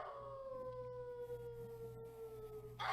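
A dog howls in a radio drama, a long sustained wavering wail that holds steady and slowly falls in pitch over about three seconds, over a low background hum, with a brief louder burst at the end.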